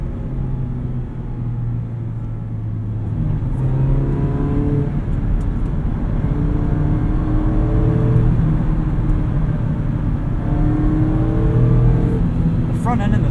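Cabin sound from inside a 2019 Mazda MX-5 Miata RF Grand Touring on the move: a steady engine drone and road rumble that rises and falls slightly as it accelerates.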